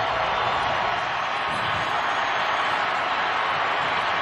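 Broncos stadium crowd roaring for Peyton Manning's return against the Chargers, a loud, unbroken wall of cheering from thousands of fans that holds steady throughout.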